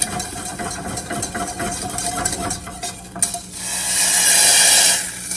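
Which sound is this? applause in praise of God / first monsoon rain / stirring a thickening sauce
stirring a thickening sauce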